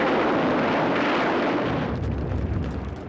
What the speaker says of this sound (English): Every cave or dugout entrance had to be blasted by flamethrowers,